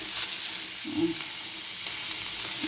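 Onions fry in hot mustard oil, making a steady close sizzling hiss with a brief bubbling pop partway through. No voices are heard.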